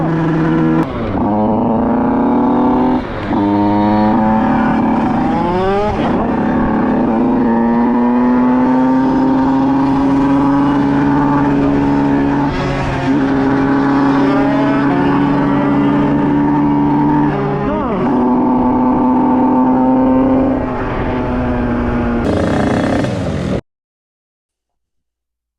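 A 50cc Beta motorcycle engine with a poorly tuned carburettor and clutch trouble drones loudly and steadily while riding, its pitch rising and falling through repeated gear changes for over twenty seconds before cutting off abruptly.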